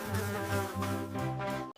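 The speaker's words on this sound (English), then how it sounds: "It's a bee." A bee buzzes in a loud, steady, close drone with a slight wavering pitch, sounding alone for under two seconds before it cuts off.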